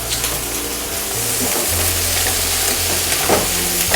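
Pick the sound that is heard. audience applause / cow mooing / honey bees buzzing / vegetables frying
vegetables frying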